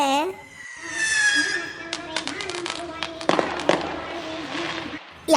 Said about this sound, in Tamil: தீபாவளியா வரல அதுக்குள்ள வானத்துல வெடி வெடிக்காவ